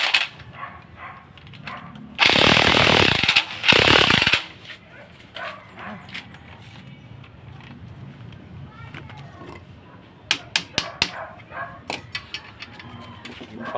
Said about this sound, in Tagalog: Impact drive na para mabilis.